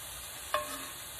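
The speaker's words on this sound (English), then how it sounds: "Let that saute a little bit" Ground beef and green onions sauteing in a pan for Cajun dirty rice, a steady soft sizzle with a brief stir that briefly brightens the hiss.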